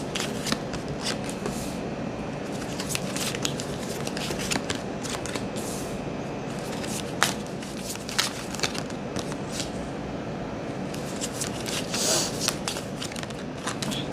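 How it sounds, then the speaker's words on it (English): Tarot cards are shuffled and pulled by hand, with soft riffling, flicking and sliding sounds close up that come in quick irregular bursts and stand alone without talk. "I'm going to be pulling all the cards"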